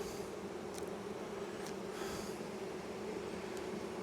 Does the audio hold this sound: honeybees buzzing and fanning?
yes